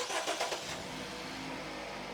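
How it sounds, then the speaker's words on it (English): A car engine cranks with a few quick starter pulses, catches, and settles into a steady idle, heard nearby during a variable valve timing diagnostic session. "Corey, could you start the car up for me again, please?"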